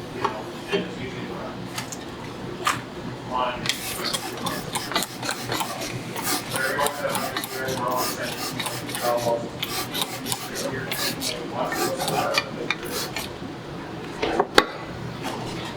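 Metal-on-metal rasping and rubbing while mountain bike suspension fork bushings are burnished during a fork service, a steady close scraping texture with scattered clinks of tools, continuing for the whole stretch.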